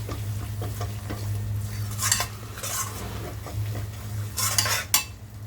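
A spoon stirs flour roasting in a pan for panjiri, giving a low steady pan hum under repeated scraping sweeps and soft gritty rustles, close and without talk.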